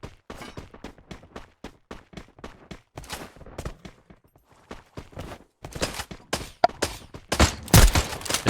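Rapid bursts of video game gunfire during a tournament grand final crackle in quick succession, building from scattered shots to dense, louder volleys toward the end.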